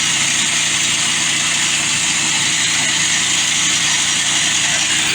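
A Woodland Mills sawmill engine runs steadily while milling a big log into 1-by-8 boards, a loud continuous drone with a low hum and bright sawing hiss throughout, no gaps.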